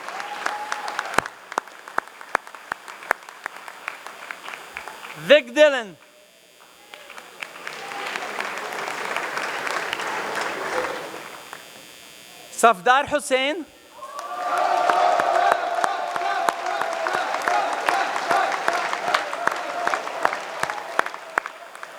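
A stage event audience breaks into repeated rounds of applause as guests are introduced, with sustained clapping between announcements. Someone speaks over a microphone, names ringing out between the bursts, and one round rises loudest near the end.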